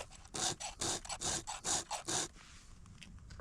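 A hand file rasps across a chainsaw chain in about nine even back-and-forth strokes, close and crisp, then stops, leaving quiet handling noise.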